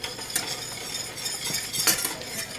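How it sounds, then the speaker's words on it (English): Spoon stirring a pot of cheesy grits, with soft scraping and thick bubbling all the way through and a couple of louder clinks against the pot. No one speaks. "I think we're going to lift the lid now, give it a stir."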